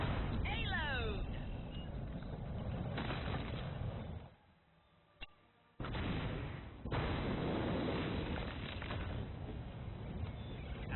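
Sgt. Hammer's napalm strikes in the Heroes of the Storm video game land as heavy booming explosions with rumbling fire, broken by a short near-silent gap, while in-game voices talk over them.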